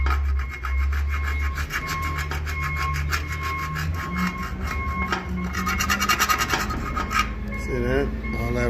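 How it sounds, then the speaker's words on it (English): Rust being scraped off the frame of a 1967 Chevy Impala, a loud continuous rasping and grinding of metal, close up, with a few faint words spoken near the end. "any excess rust, we're going to scrape it out like that"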